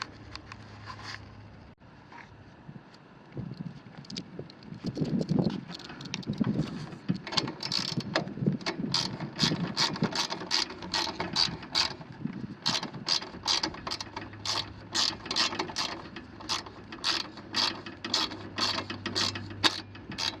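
A ratchet wrench with a 3-inch extension tightens two carburetor bolts on a 30-year-old Honda HS828 snowblower, a long run of rapid, close metallic clicks in regular bursts after some handling noise.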